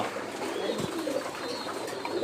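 Pigeons pecking at grit coo softly in a low, murmuring series over steady background noise, with a faint chirp or two mixed in.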